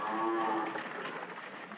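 Cattle moo in a long, low, drawn-out call, then a fainter, rougher lowing, heard through thin, band-limited old film sound with no talking.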